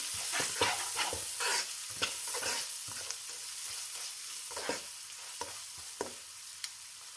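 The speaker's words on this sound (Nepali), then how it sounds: "अब मैले यसमा राखेँ आधा सानो चम्चा बेसार, आधा सानो चम्चा काश्मिरी रातो खुर्सानीको धुलो। मिक्स गरिदिउँ।" Turmeric and Kashmiri red chili powder being stirred into a frying parwal curry: steady hiss of hot oil with repeated scraping strokes of a spoon against the pan, close and alone.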